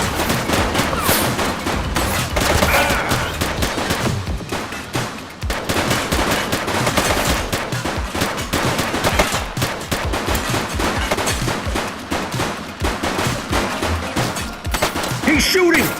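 A suspect fires in the police game The Precinct, a dense, loud, continuous burst of rapid gunfire with overlapping shots that barely lets up across the whole stretch.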